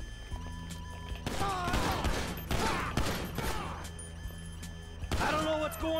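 Gunfire in Grand Theft Auto 5, with several loud bursts of shots and crashing impacts arriving in clusters over a few seconds, while someone talks over the action.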